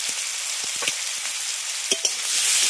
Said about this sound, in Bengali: আলুগুলো প্রথমে 3 মিনিট ভেজে নেব